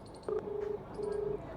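A phone ringing through a speakerphone, heard as a few repeating steady electronic ring tones close by with short gaps between them, with no voices over them.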